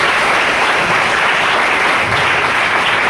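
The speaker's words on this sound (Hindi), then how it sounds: "एक बार जोरदार तालियां" An audience at a training event claps loudly and continuously for about three seconds in a dense, steady burst of applause.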